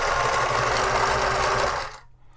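A Pfaff 360 sewing machine from a thrift store runs at a steady fast whir with a rhythmic mechanical clatter, close and loud, then stops abruptly just before the end.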